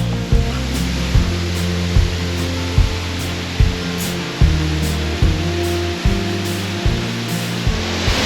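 A waterfall near Ushuaia roars as a steady, loud wash of rushing water, with regular low thumping bursts recurring throughout.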